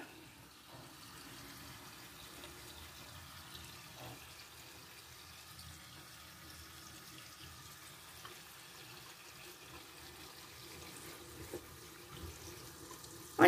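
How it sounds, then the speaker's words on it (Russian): Water is poured over potted orchid roots at a sink, a soft, steady trickle running quietly for several seconds with a few faint clinks and no talking. "Я их часто поливаю."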